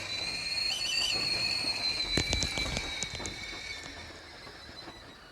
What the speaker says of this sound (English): Oh, that's the kettle boiling.